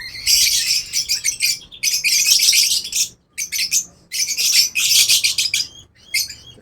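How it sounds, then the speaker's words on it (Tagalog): Several hungry birds chirp in dense, high-pitched bursts, repeating in rapid clusters separated by short pauses, loud and close. "Nagagalit yung mga ibang ibon natin kasi gusto na sila kumain na rin sila."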